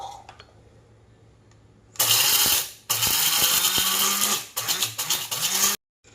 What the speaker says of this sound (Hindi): अब हम इलायची ग्राइंड कर लेंगे।